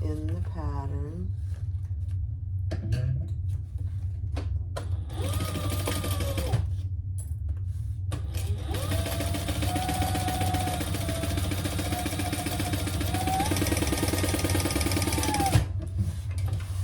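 A sewing machine runs steadily for about ten seconds, joining the lining center back panel of a purple crossbody bag at the seam allowance; close and loud, with a voice talking over the machine and briefly before it starts.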